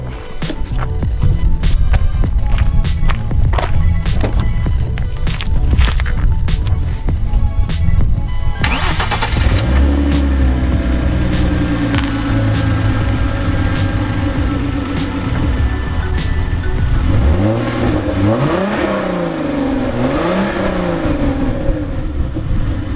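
A car engine, the owner's newly bought dream car, cranks and catches at about nine seconds and then idles steadily. Swelling revs follow near the end, close and loud throughout, in cold weather with no talking.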